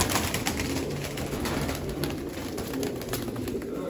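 Pigeons coo amid a dense, noisy flock of show birds, low murmuring calls layered over constant background rustle and chatter, no clear speech.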